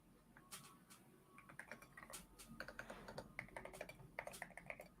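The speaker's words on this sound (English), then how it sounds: "I'm typing out who it is." Rapid, uneven keystrokes on a computer keyboard, fairly close but quiet, with bursts of clicks and short pauses against a faint room hiss and no voices.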